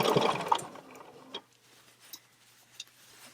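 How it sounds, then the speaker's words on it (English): A sewing machine stitches in the ditch on a real quilt, with a loud, close whirring run at the start that stops abruptly, followed by a few sparse mechanical ticks and clicks in near silence. "I will just stitch in the ditch till I get right here to this corner"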